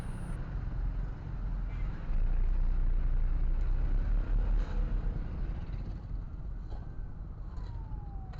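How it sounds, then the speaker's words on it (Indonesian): Dense road traffic of cars and motorbikes with a many-wheeled truck at a congested railway crossing under repair, a steady loud broadband rumble of engines throughout, with a faint rising horn-like tone late on. "truk banyak sekali rodanya"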